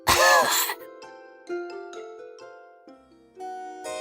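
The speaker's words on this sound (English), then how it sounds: "She coughed." A single short burst of coughing, close and loud, followed by soft piano notes playing a gentle melody.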